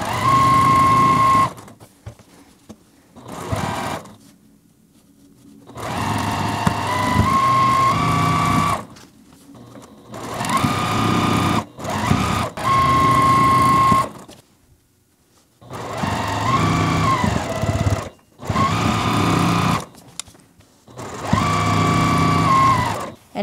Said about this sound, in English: And now we just need to sew these together.